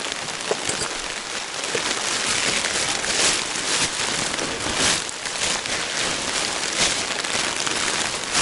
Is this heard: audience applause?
no